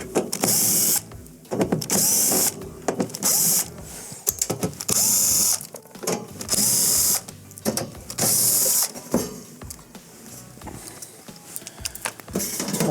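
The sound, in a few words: nut driver removing 1/4-inch screws from refrigerator back panel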